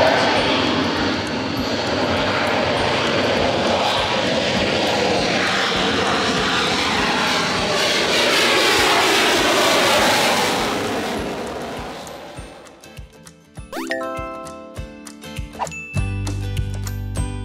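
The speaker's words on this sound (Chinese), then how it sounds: "他们现在就是十一点要起飞" An air force aircraft takes off from a military airbase in Taiwan, its loud engine roar sustained for about twelve seconds before fading, followed by music.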